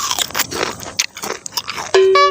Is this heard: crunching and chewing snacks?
yes